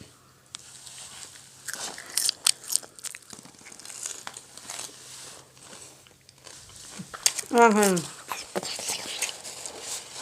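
Someone bites and chews crunchy raw salad vegetables such as carrot, with soft crunches and crinkles scattered close to the microphone amid lively voices and background sounds.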